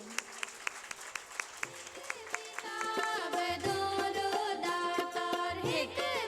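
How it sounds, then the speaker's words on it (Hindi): Audience applause at a hymn release ceremony in Rattanabad, Mirpur Khas: a few sparse claps at first, then fuller steady clapping from the crowd with musical tones and some talk mixed in. "तो ज़ोरदार तालियां आप सबके लिए भी।"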